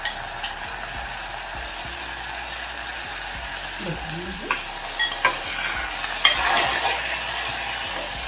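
Soaked rice tumbled with fried cashews and spices in a hot pan for butter pulao, a steady sizzle with repeated scraping and stirring strokes that grow busier toward the end.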